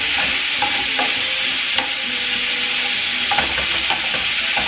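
Carne asada for street tacos sizzles in a hot pan as it is broken apart, a loud steady frying hiss with scattered scraping and stirring clicks, close and continuous with no voices.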